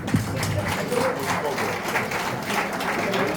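Audience applause at a French municipal election campaign speech, a steady wash of many hands clapping that holds at even loudness from start to finish.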